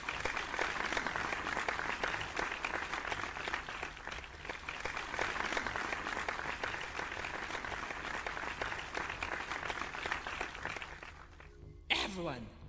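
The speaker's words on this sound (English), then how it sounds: "Give a big round of applause for them." Dense audience applause fills a hall for a long stretch after a cheerful announcement, steady and loud with many overlapping claps, tapering near the end where a brief sharp noise cuts in.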